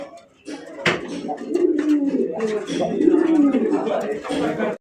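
Several pigeons from a top-quality sale collection coo steadily in rolling, overlapping calls close by, with a person talking over them throughout.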